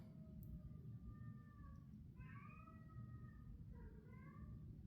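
A house cat meowing and complaining for wet food: several drawn-out, whiny meows rising and falling, a few of them overlapping in a brief burst, faint and somewhat distant over a steady background hiss.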